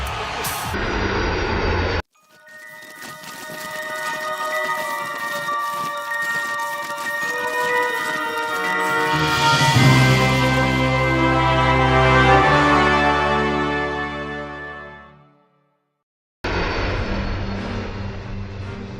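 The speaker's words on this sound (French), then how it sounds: "Le Boeing 757 de Trump est tout aussi puissant que l'Air Force One du président" Jet engines of a Boeing 757 airliner, a loud sustained roar with rising whine and layered tones that swells through the middle, then cuts out abruptly before a brief return at the end.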